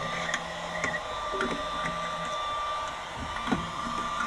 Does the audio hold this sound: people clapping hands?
no